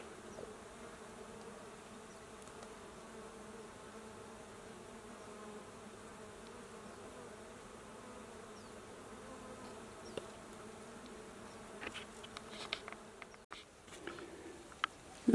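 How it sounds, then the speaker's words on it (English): A constant low hum of many killer bees buzzing around mesquite flowers outdoors, steady and moderately distant, with a few nearer passes and faint rustles toward the end. "Here are the killer bees and those mesquite flowers."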